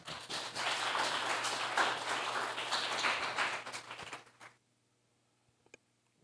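A congregation claps steadily at a Korean Christian worship service during a peace prayer meeting in Chuncheon. The dense, even applause fills the room for about four seconds, then stops abruptly into near silence.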